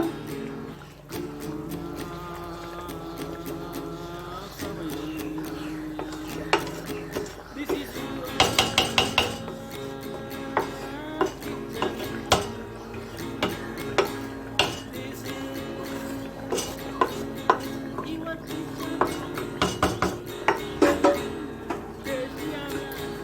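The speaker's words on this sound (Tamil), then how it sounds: "ஆட் பண்ணி அப்படியே லைட்டாக அடியில் கிண்டி விடுங்க" Soaked rice being stirred into quail biryani in a cooking pot, with repeated scraping, clinking and knocking of a spoon against the metal pot in an irregular rhythm, close and clear, with no talk.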